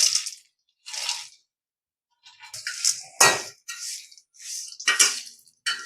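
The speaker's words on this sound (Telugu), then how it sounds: "ఇప్పుడు కార్న్స్ వేసేసుకుందాం." Corn kernels tipped into a pan with dried red chillies and a pinch of turmeric, giving several bursts of crunchy rattling and sizzle separated by short pauses, close and moderately loud.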